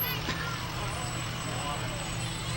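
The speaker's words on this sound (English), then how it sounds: "Here comes the Wadsworth fire trucks." Low engine rumble from Wadsworth fire trucks rolling past in the Blue Tip parade, a steady continuous drone with a brief higher squeal near the start.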